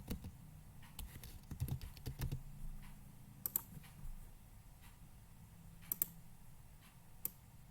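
A new name being typed on a computer keyboard: scattered close key clicks in short bursts, with a quick cluster early on and isolated taps later, against a faint low room hum.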